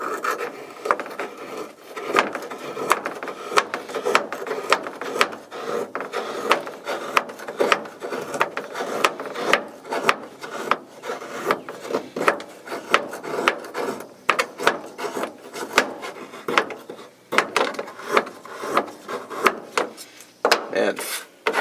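A small Benchmade knife shaves curls off wood, its rasping scrapes coming in quick repeated strokes, close and crisp, continuing steadily throughout.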